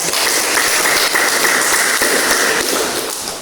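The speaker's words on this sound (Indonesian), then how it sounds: "Tepuk tangan." Pupils in an Indonesian classroom clap together after a group presentation, a loud, dense patter of many hands that holds steady for about three seconds before tapering off.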